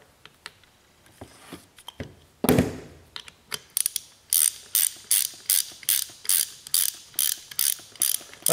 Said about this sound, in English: So make sure you torque them.